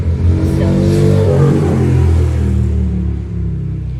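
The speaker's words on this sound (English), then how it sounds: "The people around my neighborhood think it's just great at 9 a.m. to run their motorcycles through." Motorcycle engines rev and rumble outside in a residential neighborhood in the morning, a loud, steady throaty drone that swells and then eases as the bikes pass, with no talking.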